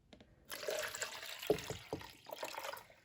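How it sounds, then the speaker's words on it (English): Water is carefully poured back from a filled container into a larger one during a classroom capacity demonstration, a close splashing trickle that starts after a short pause and runs steadily with small gurgles. "I'm going to really carefully pour that one back in now because I don't want to spill it."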